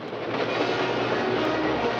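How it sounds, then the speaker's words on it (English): A train rolls steadily past in an old film scene, a dense continuous rumble with faint clickety-clack from the wheels and cars, loud and close throughout with no talking. "Boss, it is a train."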